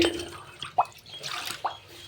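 Two distinct water drops plop about a second apart over a soft background hiss, close and fairly quiet.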